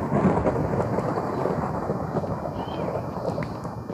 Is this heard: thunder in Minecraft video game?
yes